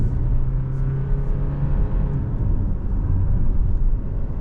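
A Kia Sportage Hybrid pulling away under acceleration as its electric motor and turbo petrol engine build speed, a loud, steady low rumble with a rising drone heard from inside the cabin.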